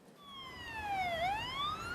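A police siren in a motorcade honouring a slain officer on its way from Porto Alegre to Guaíba's cemetery gives one moderately distant wail that dips and climbs again, swelling slightly over two seconds.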